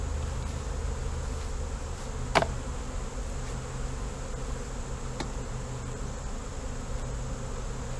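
Honey bees buzzing steadily around an open hive, a dense continuous hum with one sharp close knock and a faint tap later.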